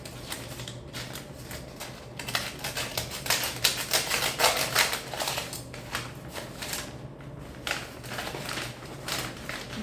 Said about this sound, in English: with my scissors, let's open this